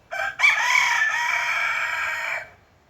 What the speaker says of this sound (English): Cluck Norris number 1 has opinions